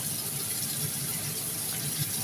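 Soaked, cut potatoes go into a hot pot of chana aloo pulao, setting off a loud, steady hiss and sizzle that runs unbroken throughout.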